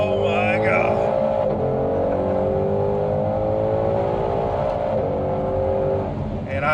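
A Ford Shelby GT500 Carbon Edition Track Pack accelerates hard, its engine note climbing steadily through a long pull heard from inside the car, loud and continuous with a brief shift near the start, no talking over it.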